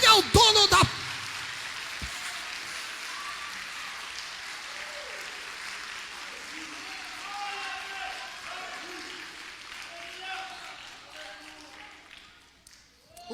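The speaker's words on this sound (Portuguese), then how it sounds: "Se você quer aplaudir a Jesus, aplaude bem forte a Jesus" A church congregation at an Assembleia de Deus service in Belém applauds in a sustained, rain-like patter of many hands, opening with a sharp loud burst and then holding a steady, fairly distant roar before tapering off near the end.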